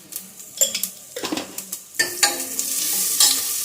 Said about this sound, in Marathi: छान त्याला परतून घेऊया आता